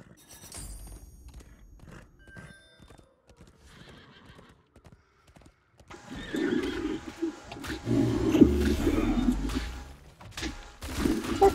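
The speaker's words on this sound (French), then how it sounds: "Il y a un cheval." A horse in the video game Heroes of the Storm, with sparse hoof clops and thumps first, then a loud, close whinny over busy game effects in the second half.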